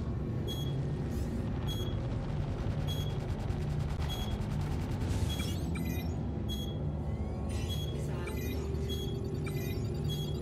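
Spaceship guns in the space sim Star Citizen, fired from a Cutlass Blue: bursts of sharp rapid shots over a dense, constant engine rumble, with crackling impacts scattered throughout.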